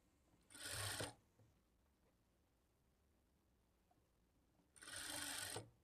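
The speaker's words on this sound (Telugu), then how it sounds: "ఇప్పుడు ఇక్కడి నుంచి స్టార్ట్ చేసుకొని 1/2 ఇంచ్ మార్జిన్‌తో స్టిచ్ చేసుకోవాలి." A sewing machine stitches a blouse sleeve seam in two short close whirring bursts, each under a second, separated by a long quiet pause.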